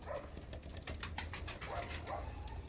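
Speckled crested pigeons of the Rostov breed coo softly in short, repeated calls, fairly close and low in level.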